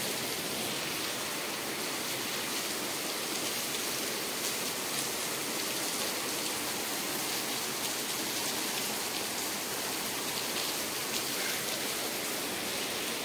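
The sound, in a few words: heavy rain seen from a balcony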